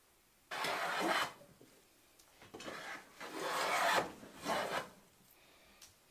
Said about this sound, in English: So I tried sanding the inside of the jaws